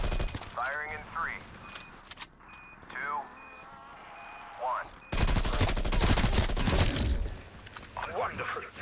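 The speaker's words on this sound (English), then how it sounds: "The ECMs have fired." ECM missiles launching in Call of Duty Black Ops Cold War Zombies: a steady high beep, chirping electronic sweeps, then a sudden loud roaring burst of rapid blasts, with a game voice speaking earlier.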